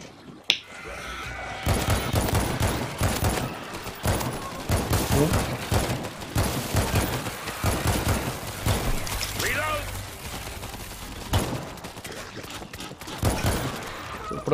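Rapid bursts of gunfire from the zombie shooter World War Z pour out almost nonstop, dense and loud, while players talk over the shooting throughout.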